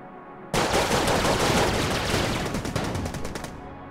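Rapid, loud gunfire from the taped-together Beholster ultra weapon in Enter the Gungeon, a dense continuous burst that starts abruptly and rattles on for about three seconds before cutting off, with no talk over it.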